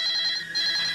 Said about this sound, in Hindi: इतनी रात को हमारे वहाँ कौन फोन कर सकता है?